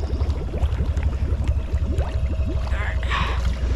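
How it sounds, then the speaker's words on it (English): The engine of a 2018 Honda Foreman ATV with a snorkel idles steadily while half submerged in a pond. Its low, even rumble is mixed with gurgling and bubbling water close by. "It's idling really good."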